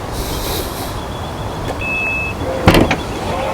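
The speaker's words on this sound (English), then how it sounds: "Power tailgate, of course." Whirring electric motor of a Mazda CX-90 power tailgate running with a faint steady tone, followed by a short clunk as it latches, close and clear with no talking.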